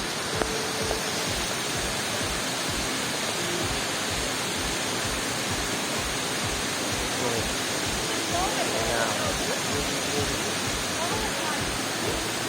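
Tad Kuang Si waterfall near Luang Prabang, Laos, a dense, steady roar of falling water that fills the whole clip without letup.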